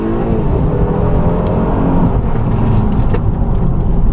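Heard from the cabin, the V6 of a 2014 Mercedes E350 4MATIC wagon accelerates with a continuous deep whirring drone that carries evenly throughout.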